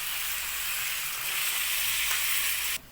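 Capsicum, radish, potato and eggplant saute in a pan with a steady, close hiss of frying oil that holds evenly throughout, then suddenly shifts to a thinner high hiss just before the end.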